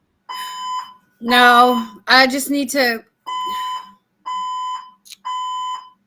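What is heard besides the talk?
fire alarm going off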